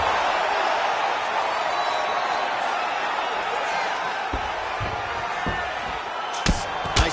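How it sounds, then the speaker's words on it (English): In a fighting video game, a fighter slams an opponent to the ground with a few heavy thuds late in the moment, beneath a steady crowd roar and fast, excited commentary. "he slams his opponent down"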